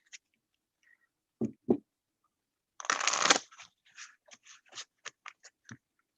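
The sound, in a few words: shuffling a deck of tarot cards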